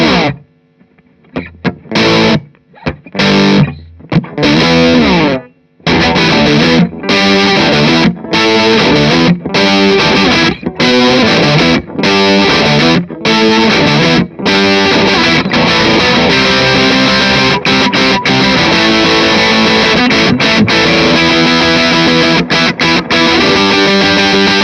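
An electric guitar played through a Marshall Jubilee Silver overdrive with reverb switched off, loud and heavily distorted, opening with choppy stabs and stops before settling into a dense, sustained riff for the rest of the clip.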